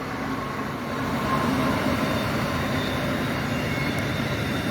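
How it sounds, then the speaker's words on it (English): An Amtrak passenger train passes near Haynes Bridge on the Raritan Valley Line, a loud steady roar of wheels and rails that swells slightly and holds throughout with no talk. "We got Amtrak coming through."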